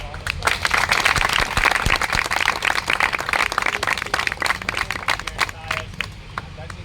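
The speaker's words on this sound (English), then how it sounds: "Shall we give her a round of applause?" Audience applause at a speakers' forum meeting in Bengaluru, a dense steady patter of many hands clapping close by for several seconds, with some crowd murmur mixed in before it thins out at the end.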